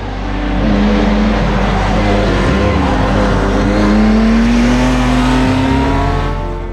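A 1969 Porsche 914 engine drones loudly and close for the whole stretch, revs rising and falling smoothly with no talk over it.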